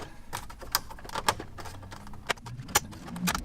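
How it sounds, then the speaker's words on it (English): Plastic car stereo trim on a 997 Turbo dash being pried and snapped off, a run of sharp close clicks and cracks over a quiet background, with several louder snaps. "So next, I'm just gonna pop off this trim. It just snaps off."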